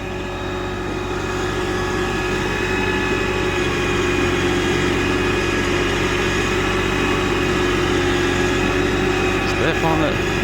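A New Holland Workmaster 40 compact tractor's engine drones loudly and steadily on a muddy boat ramp, a constant close-up rumble with no break for the whole stretch.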